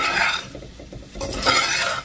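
Crispy fried potatoes are stirred in a pan, giving close scraping and clinking against the metal with a faint sizzle underneath, in two bursts separated by a quieter pause.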